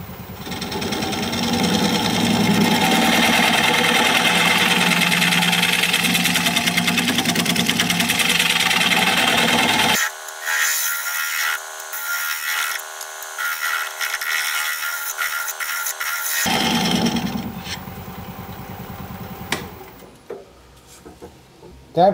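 A loud, steady grinding whine runs for several seconds as a negative rake scraper is sharpened, then gives way to rough, uneven scraping and buzzing of a wooden bowl on a lathe, ending with a short quiet tail.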